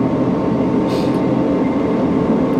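A Class 158 diesel multiple unit runs steadily, its loud, continuous rumble and rail noise unbroken throughout, with no voices.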